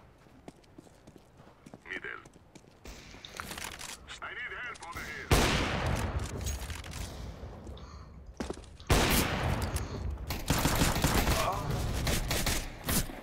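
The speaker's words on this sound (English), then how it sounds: "Stop shooting me." Counter-Strike: Global Offensive gunfire crackles in dense bursts and rapid volleys, loud and sharp, with quieter scattered shots between, while a player talks over the game.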